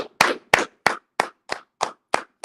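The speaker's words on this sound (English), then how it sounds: "Let's clap it up." Eight sharp, evenly spaced hand claps ring out close and loud, one every third of a second, with silence between, during an online brotherhood class.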